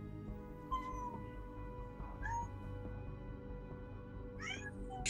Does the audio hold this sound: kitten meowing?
yes